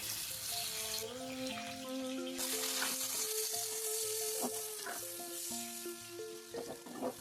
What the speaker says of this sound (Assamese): এতিয়া ৰঙচুৱা হোৱালৈকে অলপ সময় ভাজিম।